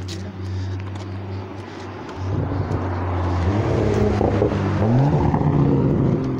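A loud car on a residential street approaches and drives past, its engine drone rising and shifting in pitch as it nears, heard outdoors during a walk while people talk over it.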